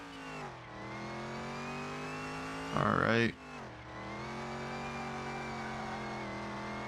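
A Dodge Charger engine in the Car Mechanic Simulator video game holds a steady, gritty hum, then snaps into a sharp, loud rev burst for about half a second before settling back. Someone speaks briefly.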